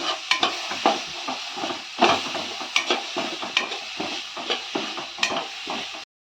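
Tomatoes and masala for mutton gravy sizzle and sputter in a hot pan while a spoon stirs and scrapes in repeated bursts, close up, with no talking.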